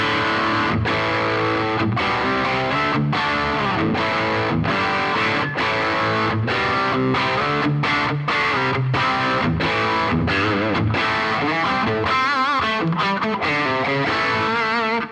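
A distorted electric guitar plays a driving riff through a Boss Angry Driver pedal on its Angry Charlie side alone, loud and continuous, with crunchy sustained chords and quick strummed attacks.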